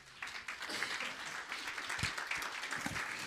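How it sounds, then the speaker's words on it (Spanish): A church congregation applauds, a soft spread of clapping somewhat distant and mixed with room noise, lasting a few seconds. "Démosle un aplauso al Señor."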